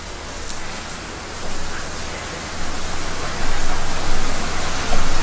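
Heavy rain pouring down outdoors, a dense, steady broadband roar that swells gradually louder over a few seconds, with no voices.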